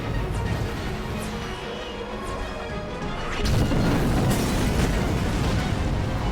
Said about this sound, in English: a thunderous explosion erupted, sending soldiers scrambling for their lives